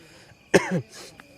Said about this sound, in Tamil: அதனால தான் லைட்டாக இருமல் வருது